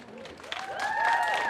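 Applause from a crowd at an outdoor Pride flag raising ceremony in San Francisco's Japantown, building steadily over the short span with a few brief cheers and whistles mixed in.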